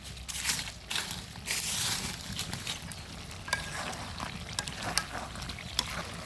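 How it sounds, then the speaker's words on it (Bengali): Duck meat sizzles as it is fried and stirred in a pot over a rural clay stove, a faint crackling bed broken by scattered sharp clicks and scraping taps. "তো এই পাশে হচ্ছে গোস্ত কষাইতেছি"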